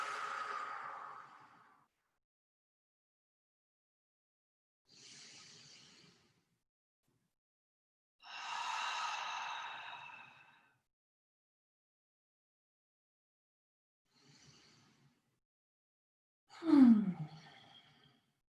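Deep breathing during yoga relaxation in a workshop: a few slow, airy inhales and sighing exhales spread out with silent pauses between them, and one louder, sharper breath near the end, close and quiet.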